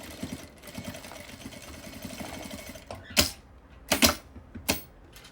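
Sewing machine stitching a zipper onto fabric with a half-centimetre presser foot, a steady low mechanical whir throughout, then three louder, sharper bursts near the end.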